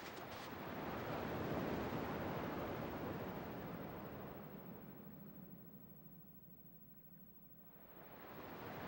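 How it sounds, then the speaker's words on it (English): Ocean surf rolls in on the shore in Kingdom Hearts II Final Mix, a broad wash that swells, slowly recedes and then builds again, heard alone without talk. "At least the waves sound the same."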